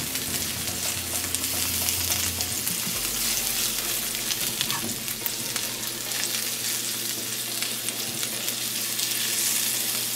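Mushroom pieces fry in butter in a pan over medium-low heat, giving a steady close sizzle and crackle throughout with no talking.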